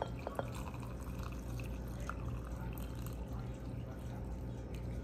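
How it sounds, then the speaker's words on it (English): Hot water pours steadily from a teapot into a cup, a quiet continuous trickle with faint drips over low background hum. "I'll go ahead and put me some water."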